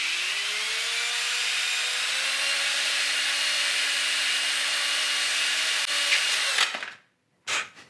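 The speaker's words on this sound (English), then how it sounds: "I'm just holding the sandpaper in my hand," Hand-held sandpaper rubs against a wooden dowel spinning in a drill, a steady whirring hiss that runs for several seconds and then cuts out abruptly.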